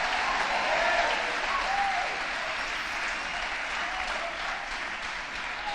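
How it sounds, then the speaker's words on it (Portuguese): A church congregation applauding at a conference service, dense continuous clapping from many hands filling the room at a steady level, without any voice over it. "Pode dar uma salva de palmas ao Senhor"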